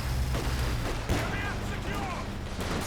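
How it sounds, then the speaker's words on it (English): Scattered gunshots and artillery-like bangs from a Company of Heroes 2 World Championship match, muffled and distant under a constant battle rumble, with one sharper crack near the middle. "shots being fired through the fog of war"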